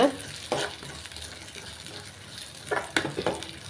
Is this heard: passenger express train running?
no